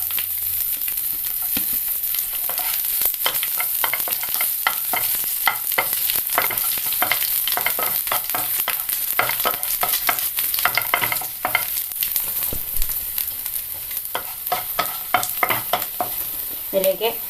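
Dried red chilies, garlic and ginger fry in hot oil in a pan for a green tomato thoran. A loud, continuous sizzle runs under frequent scraping stirs from a spoon, with no voices.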